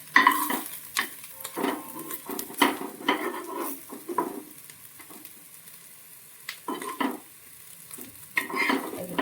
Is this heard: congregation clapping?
no